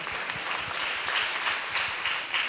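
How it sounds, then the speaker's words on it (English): Steady applause from an audience at a live book-discussion event, dense and continuous clapping throughout without voices. "Applause."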